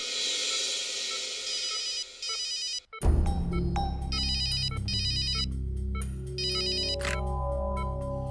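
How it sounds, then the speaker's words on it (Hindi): An electronic telephone ringtone chirps in repeated bursts. It is loud and close, and a melodic phone tone takes over partway through, with no voices alongside. "डॉक्टर तारिका को फोन कर देता हूं।"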